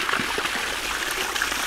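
Spring water runs out of the ground in a pine forest as a soft, continuous trickle. The flow is faint but steady, with no voices over it.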